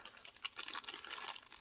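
Thin plastic bag crinkling as a military challenge coin is unwrapped from it, quiet crisp rustles and crackles in irregular bursts at close range, no voices.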